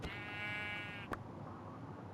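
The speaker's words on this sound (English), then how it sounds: "A grey sheep." A grey sheep in the Minecraft video game gives a single drawn-out bleat lasting about a second, clear and fairly near, followed by a brief click and then only low background noise.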